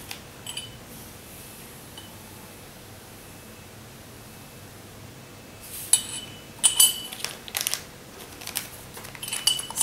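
A spoon clinks in a bowl while flour, sugar and yeast are mixed, a few sharp metallic taps arriving in the latter half over a steady hiss, with no voice.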